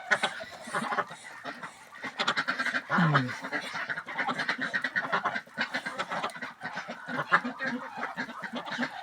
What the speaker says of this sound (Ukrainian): Отам вже під стіною качки заграють до качура.